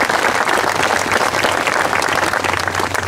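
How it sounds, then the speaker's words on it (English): Sustained, dense applause from an outdoor crowd at a university military honor garden dedication, loud and even for the whole stretch with no talking. "Let's give a round of applause for the friends and teammates of Buzz Lurth"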